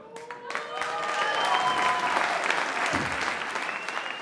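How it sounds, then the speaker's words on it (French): A campaign rally audience claps loudly and steadily in welcome for Whirlpool factory workers, with a dense sustained applause filling the room and a few cheers rising over it. "on accueille les salariés de Whirlpool. Vous pouvez les applaudir."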